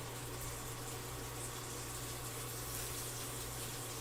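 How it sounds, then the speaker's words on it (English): Steady, close-up sizzling of chicken frying in a hot pan: a continuous crackling hiss that never lets up, with no voices. "those are sizzling away"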